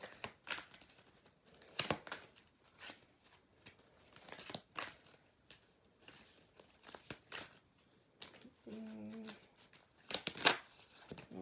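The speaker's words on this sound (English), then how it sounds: "These cards are harder to shuffle. There's like 72 of them and they're thick." A thick deck of about 72 cards is shuffled in quiet, uneven riffling bursts, with soft rustles and flicks between them, close and faint.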